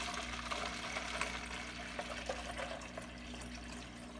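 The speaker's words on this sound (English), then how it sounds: "And now we'll pour the water in." Water is poured steadily into a brine shrimp hatchery bottle, making a faint, continuous trickling and gurgling that runs for about four seconds with no voices.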